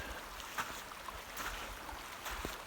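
Mill Creek flows along a mountain trail, a faint, steady broadband rush of moving water with occasional soft splashes and no voices.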